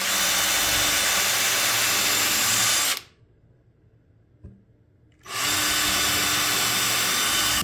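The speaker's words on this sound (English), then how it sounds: "I'll pre-drill it, put some screws in it" A power drill pre-drills and drives screws into a wooden owl box: loud continuous whirring for about three seconds, a near-silent pause with a small knock, then the drill whirs loudly again.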